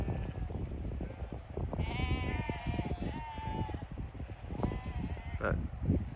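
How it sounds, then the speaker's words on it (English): Sheep bleat repeatedly at a distance as a farmer drives the flock down a snowy-hilled Scottish valley, the calls rising over steady outdoor rumble and wind. "They're moving all their sheep."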